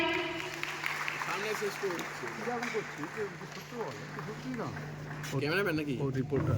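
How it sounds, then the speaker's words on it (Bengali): An audience at a Brahma Kumaris gathering in Ranaghat claps in a sustained round of applause, with an announcer's voice speaking over it. "আরেকটা করতালি দেবেন সবাই।"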